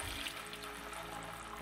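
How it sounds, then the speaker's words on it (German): Vegetable broth poured from a container into a pan, a steady watery splashing and trickling close by, heard alone without talk. "Und nun nehmen wir mal den ersten Liter Gemüsebrühe, Achtung, und gießen damit das Ganze mal auf"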